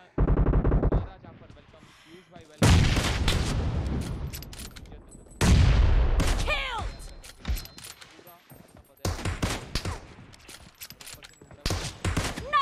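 Gunfire in PUBG Mobile comes in loud bursts, several sharp volleys with ringing echoes and shell clinks between them, separated by brief quieter stretches.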